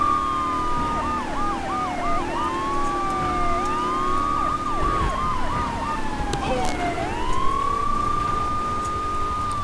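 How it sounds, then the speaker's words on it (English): Police car siren from Grand Theft Auto 3, wailing and yelping in repeated rising and falling sweeps over game traffic noise, loud and continuous throughout. "Turn off my siren, because I'm getting sick of cops."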